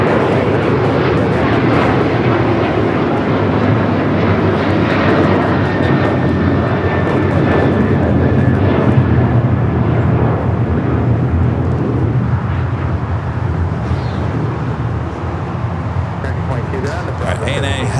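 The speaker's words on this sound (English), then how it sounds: "Flight coming in from Toronto." An arriving airliner on a flight from Toronto roars loud and close at LAX, a sustained jet rush that swells slightly mid-pass and then eases, with faint voices underneath.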